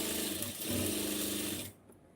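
A sewing machine runs an extra line of stitching, a close, steady whirring hum with rapid stitch pulses for about a second and a half before it abruptly stops.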